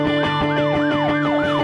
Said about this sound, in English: you hear the siren part that scares people sometimes